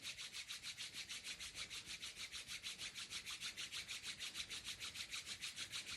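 Palms of the hands rubbing briskly together in a steady, even rhythm of quick back-and-forth strokes, a soft continuous swishing friction heard close and alone without any talk.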